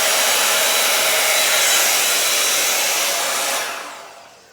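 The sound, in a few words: hair dryer blowing on acrylic paint pour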